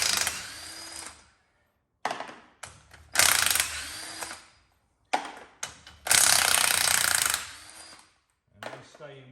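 A ratchet backs out car spindle bolts in several bursts of fast clicking, each several seconds long with quiet gaps between, close and fairly loud, plus a short faint voice near the end.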